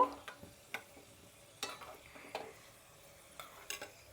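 Raisins and cashews frying in ghee in a pan, a faint, quiet sizzle broken by a handful of scattered scraping stirs and light clinks.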